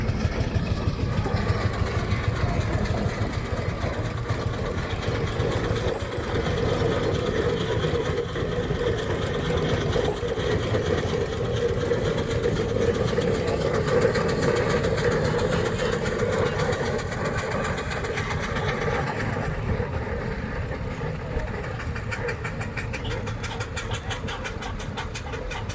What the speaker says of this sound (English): More tractors coming around here.